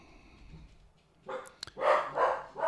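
A dog named Maxie lets out a few barks after a quiet stretch, two or three loud yaps in quick succession preceded by a brief click or knock, heard close and without talk.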